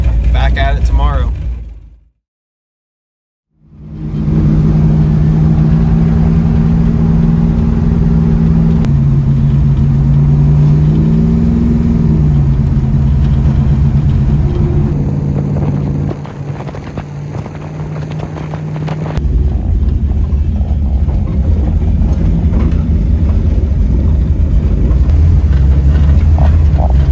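Dodge Dart and turbocharged Chevrolet Nova street cars driving, a loud steady engine drone with shifting harmonic tones and continuous road roar, broken by a brief near-silent gap early on.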